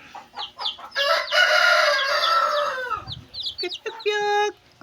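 A Shamo hen clucking and calling to her two-day-old chicks nearby, loud throaty calls and a drawn-out squawk followed by shorter clucks, with faint chick peeps around her.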